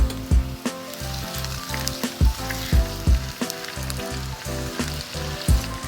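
Salmon portions frying skin side down in a hot pan, a steady close sizzle running throughout with repeated low thumps and knocks of the pan, no talking.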